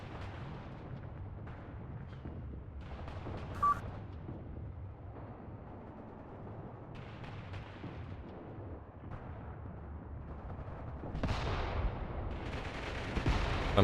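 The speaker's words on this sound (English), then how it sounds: "Some kind of explosives, mortars or something are hitting over here" Mortar rounds and explosives landing in the Mius Front war game, a steady rumble of distant blasts and gunfire with a sharper crack partway through and a louder burst of explosions near the end, with no talk.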